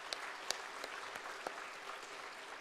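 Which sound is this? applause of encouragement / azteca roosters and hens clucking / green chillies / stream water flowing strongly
applause of encouragement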